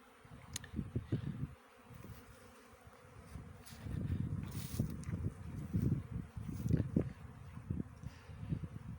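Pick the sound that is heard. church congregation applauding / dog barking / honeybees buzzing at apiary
honeybees buzzing at apiary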